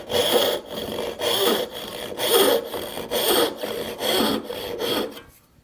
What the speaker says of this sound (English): So I'm going to make my rip cut first.